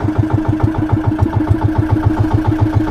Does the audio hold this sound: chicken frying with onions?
no